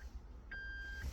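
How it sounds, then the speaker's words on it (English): A Toyota dashboard chime during a calibration procedure sounds a faint, clean, steady beep lasting about half a second, just after the tail of an earlier beep, in otherwise quiet surroundings. "we will hear 2 short beeps"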